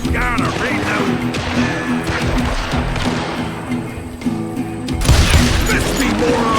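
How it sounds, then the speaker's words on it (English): Gunfire in the Western shooter Call of Juarez: Gunslinger comes as steady clattering shots and thuds over game music, with a heavier burst near the end and a voice talking over it. "Oh, gotta reload!"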